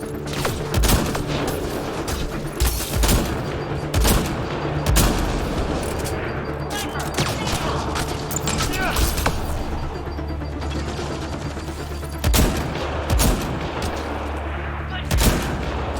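Sustained gunfire and heavy booming shots in the Mass Effect: Andromeda video game, with bursts of automatic fire and loud impacts over a steady rumbling background, several sharp blasts standing out near the end.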